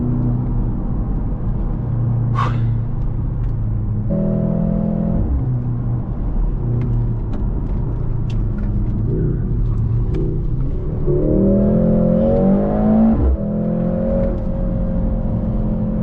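A performance car engine pulls hard through corners, its deep rumble stepping up and down in pitch as gears change, with a rising rev surge near the end. The sound is close and steady, with no talking over it.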